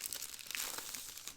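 A 1ByOne Bluetooth keyboard is pulled from its packaging, giving a close burst of crinkling plastic and paper rustles with some light tearing, brief and continuous with no talking.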